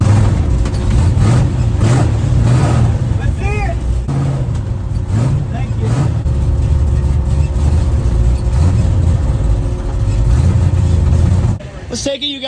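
Drag race car engine idling loud and close after being fired up, a steady rough rumble with occasional revs, people talking over it, and a sudden drop near the end.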